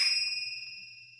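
A single bell struck once rings out with a clear, bright metallic tone that slowly decays over about a second, sounding alone and fairly close.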